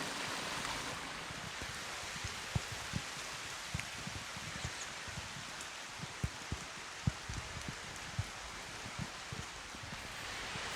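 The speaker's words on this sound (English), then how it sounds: "it's not really raining hard enough for a lot of water to be coming out of that culvert" Light rain falls steadily outdoors near a concrete-lined culvert, a soft continuous hiss broken by occasional louder drops, with no voices.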